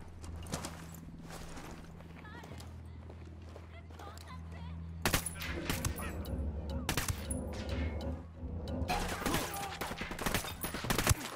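Gunfire in Ghost Recon Wildlands, dense bursts of shots and impacts over a steady engine-like hum, growing louder and busier in the second half.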